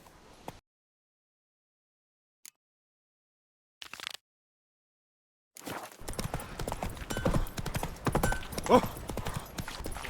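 Horse hooves galloping in The Witcher 3: Wild Hunt, a rapid, steady clip-clop rhythm that starts abruptly after near silence and a brief exclamation, then continues for several seconds at moderate loudness.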